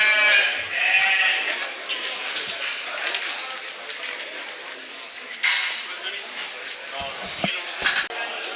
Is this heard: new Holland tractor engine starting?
no